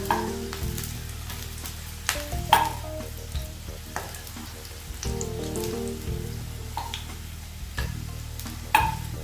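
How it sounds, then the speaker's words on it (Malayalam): Stuffed okra frying in a pan over medium-low flame, a steady close sizzle broken by repeated scraping stirs and clinks of a utensil against the pan. "നമ്മുടെ വെണ്ടയ്ക്ക സ്റ്റഫ് ചെയ്തത് നല്ലതുപോലെ ഫ്രൈ ആയി വന്നിട്ടുണ്ട്."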